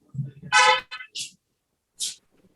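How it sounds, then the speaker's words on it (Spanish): A car horn honks during an online class, a short loud blast followed by a couple of briefer toots, picked up through a microphone amid near silence, with a voice briefly heard before it. "ya escuché un bocinazo"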